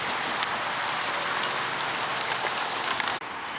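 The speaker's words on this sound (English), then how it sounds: "The rain's coming on a bit heavier than I thought actually." Heavy rain falls at a carp fishing spot, a steady, dense hiss that holds evenly throughout with faint scattered drop taps, dipping briefly just before the end.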